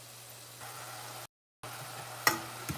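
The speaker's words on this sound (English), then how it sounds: "cut the potatoes up and made some French fries" Homemade French fries made from cut whole potatoes, a soft sizzling hiss of oil, quiet and continuous, broken by a brief gap and a couple of small clinks near the end.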